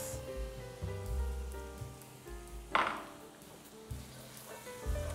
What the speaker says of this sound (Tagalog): Magisa tayo ng bawang sibuyas. Okay, put your sibuyas.